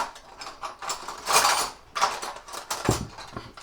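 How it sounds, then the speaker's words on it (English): Metal teaspoons clatter and clink as they are pulled from a kitchen drawer after a lemon and lime sponge pudding is made, a few scraping, jangling bursts close by with no talking. "Let's get 2 little spoons out"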